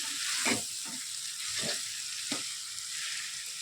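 Chicken chow mein noodles are stir-fried in a hot pan, a steady sizzle broken by several scraping tosses of the spatula.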